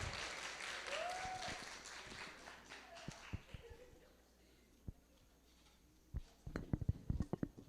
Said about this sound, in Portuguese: aplaudam a menina